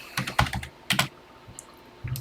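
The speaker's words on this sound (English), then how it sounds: "let's go ahead and get into TI Extended Basic. And let's start typing." Typing on a TI computer keyboard while entering a TI Extended BASIC program: close, crisp key clicks in quick irregular bursts separated by short pauses, with no voices.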